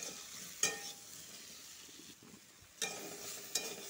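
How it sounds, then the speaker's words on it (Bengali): Sweet pumpkin frying and being stirred in a pan with cumin and coriander powder, a soft steady sizzle broken by a few sharp scrapes of the spoon against the pan, with no talking. "এর সাথে আবার ভাজবো ভালো করে"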